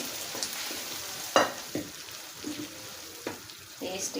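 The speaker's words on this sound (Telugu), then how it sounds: "ఇప్పుడు ఇందులోకి పప్పు వేసేస్తున్నామండి." Lentils for gongura pappu sizzle and fry in a pan, a soft close crackle broken by a few sharp clinks and scrapes of stirring.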